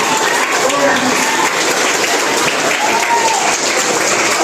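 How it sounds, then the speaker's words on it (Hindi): An audience gives a speaker a round of applause at a session on healthy living and yoga asanas, with steady, loud clapping throughout and voices faintly mixed in. "सर के लिए एक बार जोरदार ताली का आंदोलन होना चाहिए।"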